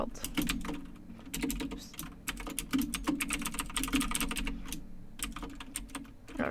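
Rapid, irregular clicking of a computer keyboard as C++ code is typed in VSCode, close and steady with brief pauses, and one short spoken exclamation.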